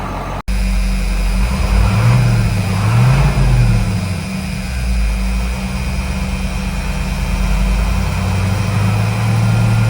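A 1956 Ford C800 truck with an old non-turbo 8.2 Detroit engine drives along, its loud, close engine droning steadily and rising and falling in pitch as it revs, with no talk over it.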